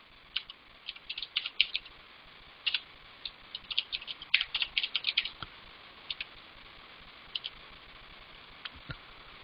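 Typing on a computer keyboard, close and fairly faint: brisk bursts of light key clicks, dense at first then thinning to scattered single taps, no voices.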